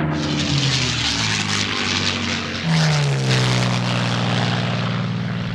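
A Supermarine Spitfire's propeller engine drones loud and close, a continuous throaty roar whose pitch dips and shifts as the aircraft passes, with no voices.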